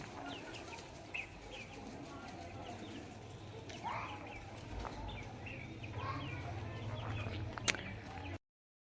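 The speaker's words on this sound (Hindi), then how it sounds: "ये इतनी सारी प्यारी प्यारी सी मुर्गियाँ रखी हुई हैं" Chickens cluck softly in the yard of a grandparents' village house, scattered faint clucks and bird calls heard under a voice talking nearby.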